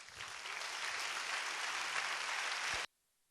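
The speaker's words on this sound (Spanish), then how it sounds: "Alberto Rábano, un aplauso para él" Audience applause for a speaker at a science talk event, a steady dense roar of clapping from a large crowd that carries on for nearly three seconds and then cuts off abruptly.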